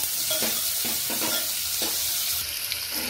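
Finely chopped onion and green chillies are sautéed in a pan, a loud, continuous sizzle with several short scraping stirs of a spoon at irregular intervals.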